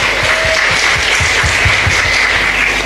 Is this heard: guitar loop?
no